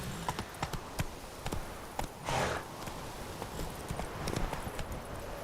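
Horse hooves clip-clop in a rhythmic gait in The Witcher 3, with a brief whoosh in the middle and no talking.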